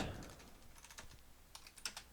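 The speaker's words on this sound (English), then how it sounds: "we're going to go into configuration mode, and we're going to type IP route" A command for a Cisco router is typed on a computer keyboard in a quick run of soft, close key clicks, heard on their own without any voices.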